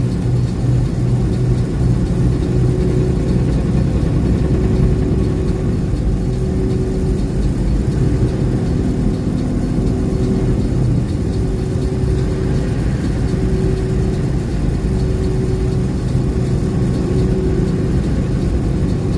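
A 2020 Kenworth T680 truck engine drones at idle inside the cab, a loud, steady low rumble with slight rises in pitch and no talk over it.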